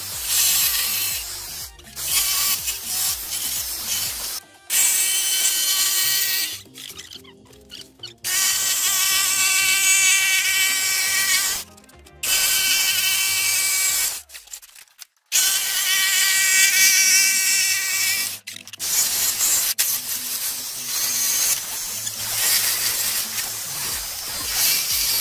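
A power sander works the wood of furniture built into a van interior, a loud buzzing whine running in long bursts separated by brief pauses, close and with no voices.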